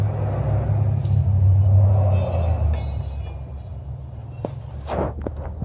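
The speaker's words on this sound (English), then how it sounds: "Traffic is super loud." Heavy road traffic rumbles loudly nearby, a deep continuous roar of passing vehicles with a brief hiss of air brakes near the end.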